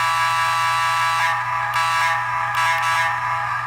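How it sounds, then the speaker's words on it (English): A Lionel Junction Dinosaur Diesel LionChief toy train horn blares steadily in a continuous electronic tone, with a few brief breaks and shifts near the end. There is no talking. "And now we can listen to the horn."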